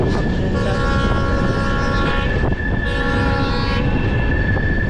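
A passenger train on the Siliguri–Hasimara line rumbles past close and loud with a steady roar, and a long sustained horn blares over the rolling clatter.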